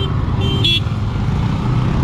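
Motorcycles, including an MT-15, NS160, N160, FZ S150 and Gixxer 160, drag racing on a short track give a steady, continuous engine drone with a low rumble that stays level throughout the moment.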